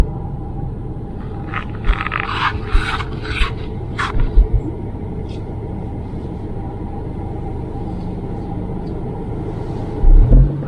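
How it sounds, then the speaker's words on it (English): A car passes on a quiet island road: a steady, broad rumble of tyres and engine holds throughout, with a few scraping bursts early on and a heavier thump near the end. "Finally seeing another car."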